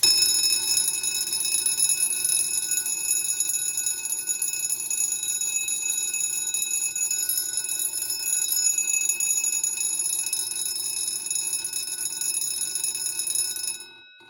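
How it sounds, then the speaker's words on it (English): A Fire-Lite BD / Simplex 4090 fire alarm bell, rung while lying flat, gives a continuous, loud metallic clangor with bright ringing overtones. It rings steadily for about fourteen seconds and then cuts off abruptly. "So first of the bells, the Fire-Lite BD or Simplex 4090 bell."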